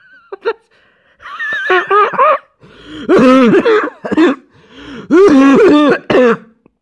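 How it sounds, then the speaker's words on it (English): A man laughs hard and then breaks into throat-clearing coughs, several close, loud bursts of wheezing laughter and hacking in uneven clusters separated by brief pauses. "I laughed so hard at that I started coughing"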